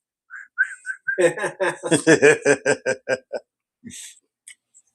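Series of short whistled or whistle-like tones at a rum tasting, starting with a few brief high chirps and then building into a rapid run of repeated pulses before trailing off into isolated faint blips; close and fairly loud.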